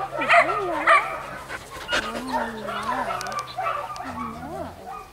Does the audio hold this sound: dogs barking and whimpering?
yes